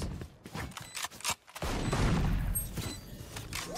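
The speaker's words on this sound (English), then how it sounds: "Swarm grenade, swarm grenade out." Killjoy swarm grenade detonating in Valorant, a burst of rapid crackling pops that swells after a short gap and stays loud and dense for about two seconds.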